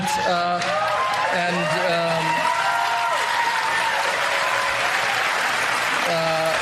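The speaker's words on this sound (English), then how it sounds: "You don't have to clap out of obligation." An audience bursts into sustained applause that fills the room, loud and dense throughout, while a voice speaks over it at the start and end.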